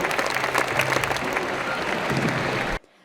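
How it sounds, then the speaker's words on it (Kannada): An audience at a Kannada Rajyotsava function at Raj Bhavan claps loudly for folk artists, a dense, sustained burst of applause that cuts off abruptly. "ಈ ಎಲ್ಲ ಕಲಾವಿದರಿಗೆ ಅವರ ಪರಿಶ್ರಮಕ್ಕೆ ಪರಿಣತಿಗೆ ದೊಡ್ಡದೊಂದು ಚಪ್ಪಾಳೆ ಬರಲಿ ನಮ್ಮ ಕಡೆ"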